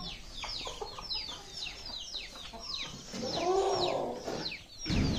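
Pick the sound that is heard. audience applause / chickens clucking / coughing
chickens clucking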